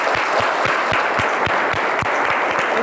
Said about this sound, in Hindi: तो एक बार जोरदार ताली बजाइए अपने लिए।